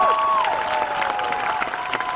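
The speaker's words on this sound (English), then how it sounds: "So give them a round of applause." Outdoor crowd at a rally for Daniel Prude clapping and cheering steadily, a whistle-like tone rising over the dense, sustained noise.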